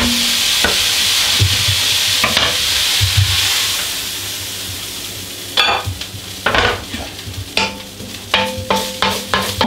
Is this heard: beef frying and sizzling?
yes